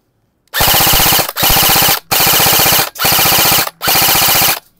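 Airsoft rifle, a SLONG NTR Scorpion rated around 490 FPS, firing full-auto in five loud, close bursts of rapid regular shots, each about a second long, separated by short gaps, with no talking.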